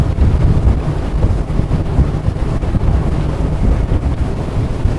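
A Sacs Strider 11 boat runs at top speed, around 43 knots at 5800 rpm. Loud, continuous wind rush buffets the microphone over a low engine and hull roar, with no talk.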